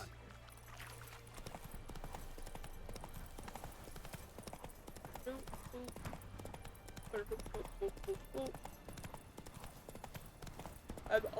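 In The Witcher 3, the horse Roach gallops in quick rhythmic hoofbeats. The hoofbeats are faint and steady, under game music and a streamer's talk.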